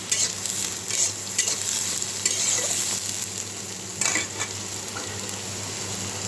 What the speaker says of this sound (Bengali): তো পেঁয়াজটা একটু ভেজে নিই